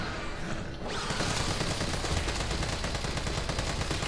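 Rapid bursts of gunfire in the Resident Evil 3 Remake video game, a dense run of sharp shots continuing without pause after a brief lull at the start.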